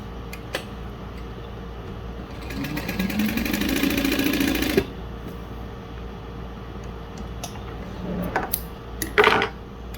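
A Juki DU-1181N sewing machine stitches canvas with woven interfacing in one steady run of about two seconds, followed by a few faint handling clicks and taps.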